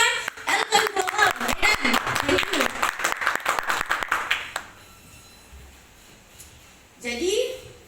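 Audience applause for Elken Global, loud and dense with crisp individual claps and a speaking voice over it, dying away near the middle before a brief burst of talk returns at the end.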